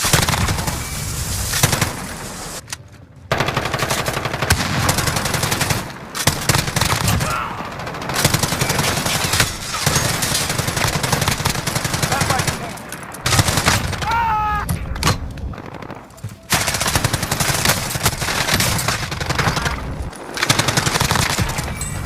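M91 machine gun fire from a Call of Duty video game: dense, loud sustained bursts of rapid shots broken by a few short pauses, with some game effects layered in.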